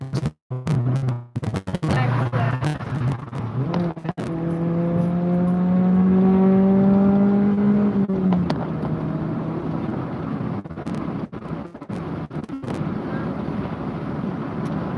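A car engine revving with a rising and then falling tonal drone that swells loudly in the middle, with heavy wind buffeting and crackling noise around it and no speech.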